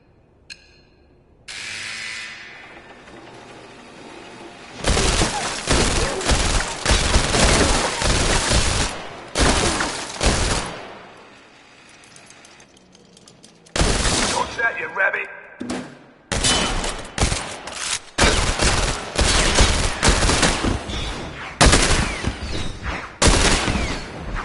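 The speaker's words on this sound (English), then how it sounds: "Shoot the tires, avoid the friendly targets." Rapid bursts of gunfire from the PSVR game London Heist as shots target vehicle tires, loud fusillades broken by short pauses, with a voice briefly heard between volleys.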